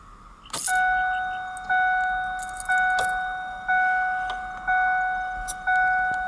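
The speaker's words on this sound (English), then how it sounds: "after you put the key in, you need to turn it to the on position" Key turned to the on position in the ignition lock of a 1997-2004 Ford F150, after a sharp jangle of keys comes a steady electronic chime repeating about once a second, close and clear.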